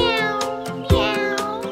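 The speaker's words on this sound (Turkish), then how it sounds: "Kedi miyavlar." A cat meows several times in quick succession, close and clear, with bright repeated cries and no talk over them.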